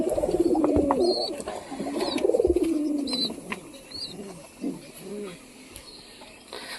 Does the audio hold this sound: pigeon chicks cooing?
yes